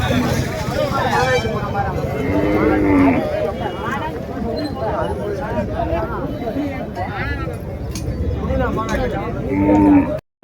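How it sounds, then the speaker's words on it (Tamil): Cattle low repeatedly at the Madrapalli native cattle market, where plough bullocks and calves are sold. Several close, drawn-out moos rise over a steady crowd murmur and nearby people talking. "இதுவும் சங்கத்து மாடுங்க."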